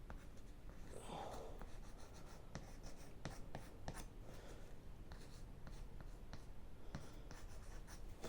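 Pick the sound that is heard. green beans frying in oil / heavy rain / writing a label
writing a label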